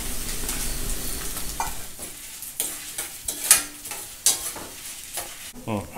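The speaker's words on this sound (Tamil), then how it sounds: "கொஞ்சம் எண்ணெய் விட்டு நல்லா வறுத்துட்டுருவேன்." Dry red chillies, toor dal and fenugreek roasting in a little oil in a pan, with soft sizzling broken by repeated scraping stirs and a few sharper clinks, close and steady with no talk.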